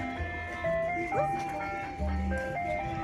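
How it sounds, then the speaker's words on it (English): An ice cream truck's tinkly music jingle plays through a loudspeaker at a July 4th celebration on the Hudson River in NYC, steady melodic tones over crowd noise with people talking nearby. "Ice cream truck."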